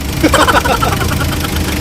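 Steady Mitsubishi L300 Versa Van engine running close by, a constant low hum with brief faint voices or chatter near the start.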